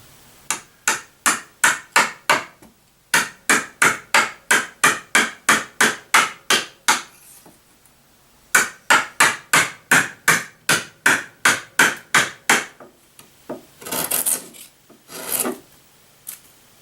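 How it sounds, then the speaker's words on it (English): Repeated chiseling into a wooden board while building a DIY shop stool, close and crisp: two long runs of steady, rhythmic rasping strokes separated by a short pause, then a few scattered scraping sounds at the end. "So we'll just go through here with a chisel, take our time and chisel this section out."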